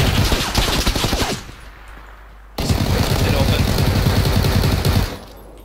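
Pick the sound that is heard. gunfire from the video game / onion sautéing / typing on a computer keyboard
gunfire from the video game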